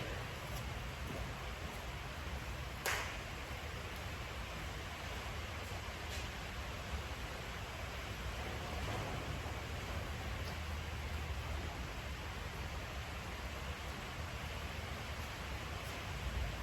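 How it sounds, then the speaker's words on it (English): Steady rain falls outdoors while car wiring work goes on, a constant broadband hiss of drops filling the background for the whole stretch, with no talking. "Sorry about the rain in the background, but can't stop Mother Nature."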